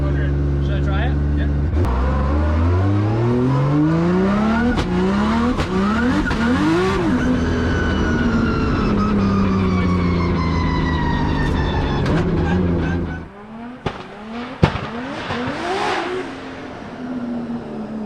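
A Nissan S15 engine revs loud and close on a dyno, climbing through repeated pulls with rising and falling pitch and a sharp crack or two, then dropping to a lower idle-like rumble near the end as a voice speaks.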